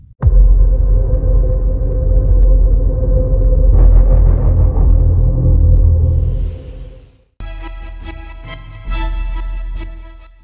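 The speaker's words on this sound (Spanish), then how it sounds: "así se interpreta con sonidos cuando la Tierra es golpeada con una tormenta solar" Sonification of Earth being hit by a solar storm: a loud, deep rumbling drone with a sustained tonal hum, swelling and shifting, then cutting off before a brighter, buzzing, pulsing texture resumes.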